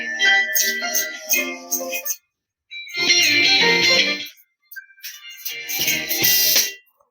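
Music played through the second Bluetooth earphone, loud and close, coming in three bright, tinny bursts with brief silent gaps between them.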